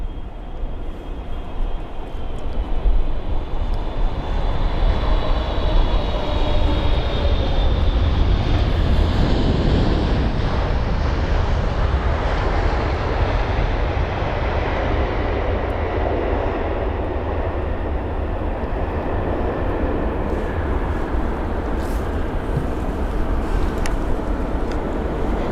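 A jet airliner in Star Wars livery roars past at London Heathrow, a loud, steady, continuous engine rumble with a rising-then-falling whine, heard close and alone for the whole stretch.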